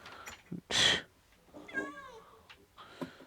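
A cat meows in the video game Minecraft, one loud drawn-out meow followed by a softer, wavering second call, with no one talking.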